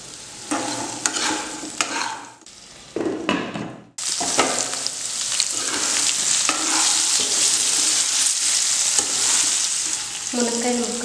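Drumstick pieces with salt cook in a pan for a curry. A few scraping stirs and clatters give way to a loud, steady sizzle that carries on close up.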